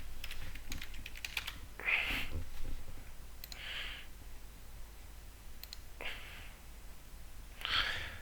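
Someone types a search on a computer keyboard: short bursts of quick, light key clicks separated by quiet pauses, close by and fairly soft.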